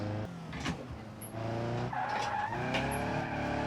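A car in BeamNG.drive slides on the handbrake with sustained tire squeal and skidding over a revving engine, several screeching bursts across a few seconds, with no voices.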